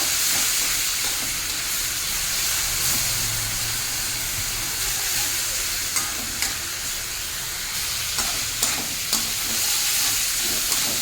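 Spice masala being stirred and fried with a little water in a pan for a vegetable chorchori of bitter gourd, sweet potato, eggplant and potato, a steady close sizzle and hiss with occasional scraping stirs.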